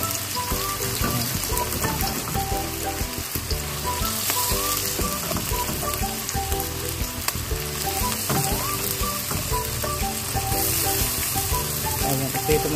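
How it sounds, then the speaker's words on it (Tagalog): Steady, loud sizzling in a pan of oil while ingredients fry for Filipino tortang giniling, a dense crackle that continues throughout. "Ayan, piprito muna natin siya."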